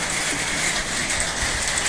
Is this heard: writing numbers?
no